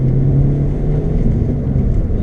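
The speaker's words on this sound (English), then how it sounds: "A bit of wheel spin there." A Vauxhall Astra accelerating with wheel spin, heard as a loud, close, continuous low engine rumble that holds steady for a couple of seconds.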